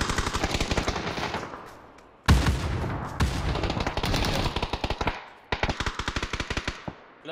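Automatic rifle fire in the battle game PUBG, rapid loud bursts of gunshots at close range separated by brief pauses, with a few heavier single shots.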